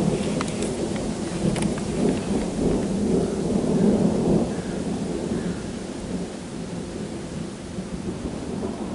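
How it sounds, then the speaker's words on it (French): A thunderstorm rumbles steadily with heavy rain hissing down, a continuous dense wash of storm noise with no talking. "Je parle de l'orage."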